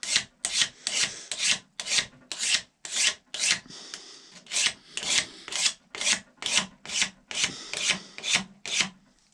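A rasp filing a taper onto a wooden rifle ramrod, about seventeen even back-and-forth strokes in a steady rhythm, close and clear with brief pauses between, no voices.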